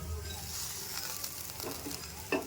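A pan of toor dal curry with drumstick leaves sizzles steadily and close up, with a few soft clinks of stirring near the end.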